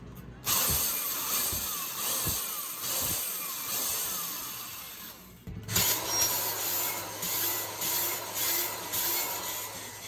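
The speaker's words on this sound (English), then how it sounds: "valve grinding compound on the seat. I put my drill on it, tightened it up" A power drill whirs in short bursts, spinning a VW Beetle cylinder head valve against its seat with lapping compound, a grinding, rasping scrape of metal, pausing briefly midway before resuming, close up with no talk.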